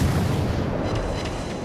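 A warship's main gun booms in World of Warships Legends, a dense, loud rumbling blast with heavy low-end roll sustained across the moment, no voices over it.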